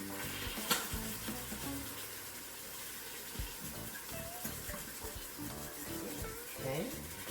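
Beef roast browning in an Instant Pot, a soft continuous sizzle with occasional scrapes and clinks as the meat is turned, fairly quiet.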